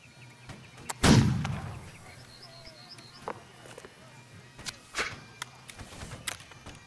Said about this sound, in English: Yeah, we're getting shot.